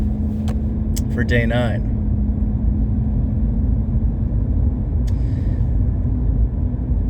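A car driven to school, its low steady engine and road rumble droning continuously throughout while a person talks briefly over it.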